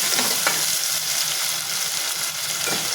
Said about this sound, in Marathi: त्याचा पूर्ण कलर चेंज होईपर्यंत आपल्याला परतून घ्यायचं आहे